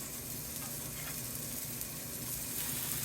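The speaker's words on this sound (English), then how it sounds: "I am gonna let these sear up really, really well." Salisbury steak patties sear in an oiled pan with a steady, close, even sizzle and hiss that lasts throughout, moderately loud and without voices.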